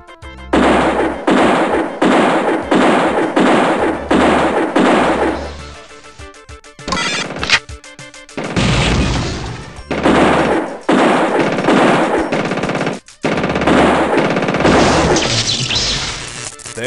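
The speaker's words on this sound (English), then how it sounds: "there's another mutated cyborg. Let's gun him down." Sustained automatic gunfire in System Shock, bursts of rapid loud shots aimed at a mutated cyborg, with short pauses between volleys and heavy impacts near the middle.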